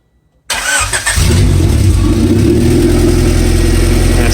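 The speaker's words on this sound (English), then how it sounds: "you can go ahead and start it up" A 1992 Honda Civic engine with an open header and no exhaust fires up after brief silence, catching at once and settling into a loud, steady, raspy idle close by.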